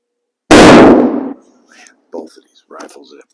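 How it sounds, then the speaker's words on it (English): A Swiss K-31 rifle fires a single loud, sharp shot at an outdoor range, its report decaying over about a second before a few faint voices and sounds follow. "We'll do 3 shots with this rifle."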